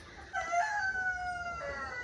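An Americana rooster crows once, a long drawn-out call with a sharp start and a falling tail, fairly close and clear over a quiet background.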